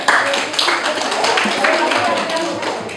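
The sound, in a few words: applause for group 3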